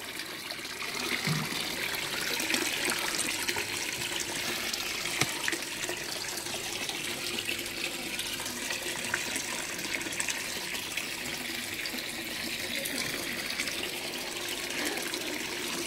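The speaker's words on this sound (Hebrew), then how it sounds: "תראו איך אני שותף את המים" Water runs steadily from a tap at a pool being cleaned through six filters to drinking quality, a constant close rushing and trickling flow that lasts throughout with no talking.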